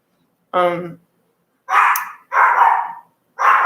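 A dog barks several times nearby, loud sharp barks spaced apart with short pauses, preceded by a higher yelp.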